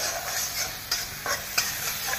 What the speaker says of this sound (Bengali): একটু নাড়াচাড়া করে